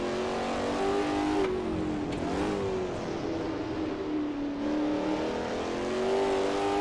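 A 1960s GT car in Assetto Corsa accelerates up through the gears out of a chicane, its engine droning and rising in pitch with a few quick shift dips, held at a steady, moderately loud level throughout.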